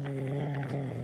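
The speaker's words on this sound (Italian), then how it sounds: "No, sono due cani." Two dogs growling low and steady, a continuous rumbling snarl held close for about a second with no break.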